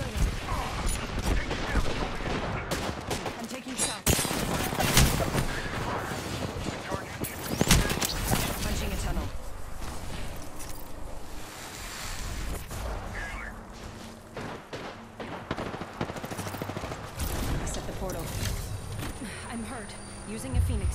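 Gunfire in Apex Legends on the Overflow map, with repeated sharp shots and impacts scattered across a busy, continuous game mix, partly under talking voices.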